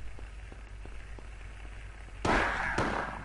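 A single loud gunshot from a pistol or shotgun in the PS1 horror game Silent Hill, set in Alchemilla Hospital, bursts out sharply after a stretch of faint static-like ambience, followed by a short echoing tail and a second softer pop.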